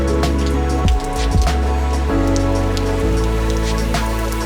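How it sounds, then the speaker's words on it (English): Tropical rain pouring down on Koh Mak island, Thailand, a dense continuous patter drumming steadily on nearby surfaces with a low rumbling undertone, loud and unbroken throughout. "As I was eating, the darker clouds came back, but this time they brought the rain with them"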